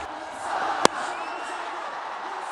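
Cricket crowd at an HBL PSL match cheering a Babar Azam batting shot: a steady, broad roar of many voices through the clip with one sharp crack-like spike near the start, likely the bat.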